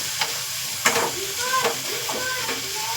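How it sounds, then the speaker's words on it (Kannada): Chopped ridge gourd, onion and tomato fry in oil after tempering, with a constant close sizzle broken by light scrapes and clinks of the stirring spoon. "ನಾನೀಗ ಇದನ್ನೆಲ್ಲದನ್ನು ಎಣ್ಣೆಯಲ್ಲಿ ಫ್ರೈ ಮಾಡಿಕೊಳ್ತಾ ಇದ್ದೀನಿ ಇದು ಎಣ್ಣೆಯಲ್ಲಿ ಪೂರ್ತಿಯಾಗಿ ಫ್ರೈ ಆಗಬೇಕು"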